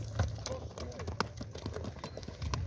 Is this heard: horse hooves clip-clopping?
yes